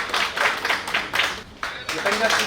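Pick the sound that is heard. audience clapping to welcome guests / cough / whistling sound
audience clapping to welcome guests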